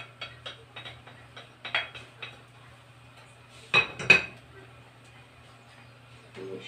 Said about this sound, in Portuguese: Coloca no final, mexe um pouquinho e tá pronta a paçoca.